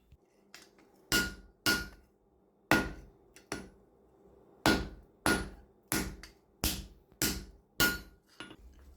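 Hammer blows forging a steel garden hoe, struck vertically to control the edges: about ten sharp, ringing metallic strikes in an uneven rhythm with short pauses, close and loud with no talk.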